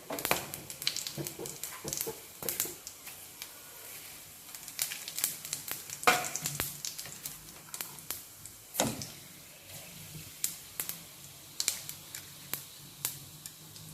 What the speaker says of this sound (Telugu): ఇప్పుడు ఆనియన్స్ వేసుకున్నాం ఆనియన్స్ చక్కగా ఫ్రై చేసుకోవాలి మంచిగా